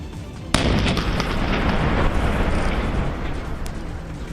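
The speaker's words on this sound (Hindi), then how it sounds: "आखिरकार जवानों ने उस मकान को धमाके से उड़ा दिया।" A sudden loud blast as security forces blow up a house, then a heavy rumbling roar lingers and slowly fades.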